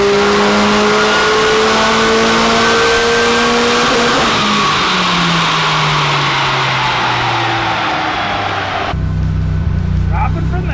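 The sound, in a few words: car engine revving on a dyno run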